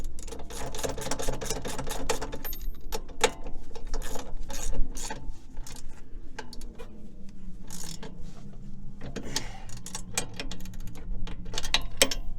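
A hand ratchet tightens the leveling kit bolts on a 2017 GMC Sierra pickup, with rapid clicking bursts of pawl strokes that start and stop. The strokes are close and sharp, with brief pauses between runs.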